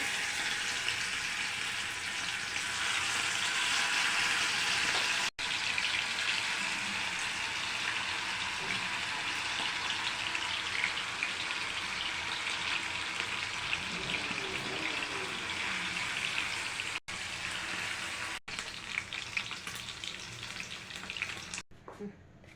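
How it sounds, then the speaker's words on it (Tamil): Chicken frying in hot oil in a pan gives a loud, steady sizzle with a crackling hiss that runs unbroken for the whole stretch, with no voices. "இப்போ சிக்கன் எல்லாம் பொரிச்சு எடுத்தாச்சு"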